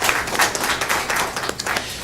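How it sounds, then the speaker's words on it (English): Audience clapping at a city council meeting, a brisk burst of hand claps that stays fairly steady for the whole two seconds, close and moderately loud, with no talking over it. "please give them a round of applause."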